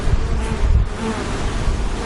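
Honeybees buzz steadily at an open hive while a frame is lifted out, a dense close-up drone with no talking.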